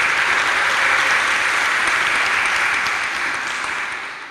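A crowd at an award ceremony in Reggio Calabria applauds in a dense, steady wash of clapping that holds loud and then begins to fade toward the end.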